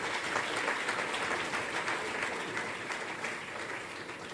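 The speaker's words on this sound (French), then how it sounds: "invite à applaudir et acclamer chaleureusement pour vous-même" An audience at a CEEC Rwanda ceremony breaks into sustained, dense applause that holds steady and fades slightly toward the end.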